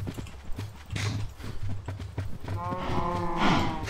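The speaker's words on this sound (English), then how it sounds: "Stupid cows. There's so many!" A large herd of cows moving close by, a busy clatter of hooves with a low moo rising near the end, heard at moderate volume with no clear talking.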